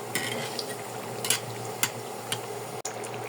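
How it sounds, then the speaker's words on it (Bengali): A Mughlai paratha shallow-fries in oil in a pan with a soft, continuous sizzle, broken by a few brief clicks and taps from a utensil. "এখন আমি দুই পাশটা ভালো মতো একটু ভেজে নেব।"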